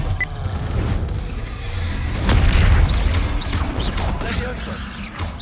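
Expelliarmus disarming spell cast in Hogwarts Legacy, heard as a run of heavy booms and crashing impacts, loudest near the middle, over game ambience.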